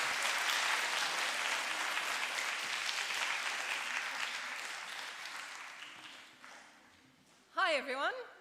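Audience applause at a school author talk at St. Catherine's School, greeting two alumni speakers: a broad, steady wash of clapping that fades gradually over several seconds, followed by a short burst of talk near the end.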